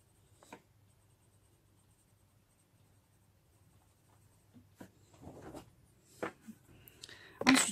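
A black Polychromos colored pencil shades lightly on paper, giving faint, scattered scratchy strokes that start almost silent and grow denser and a little louder toward the end, close up.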